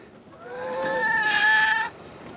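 A chicken gives a single drawn-out, rising call, close and clear against a quiet garden background, fading abruptly after about two seconds.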